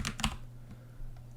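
A short burst of typing on a computer keyboard, a few quick clicks of keys entering a terminal command, followed by a faint extra tap, heard close and alone.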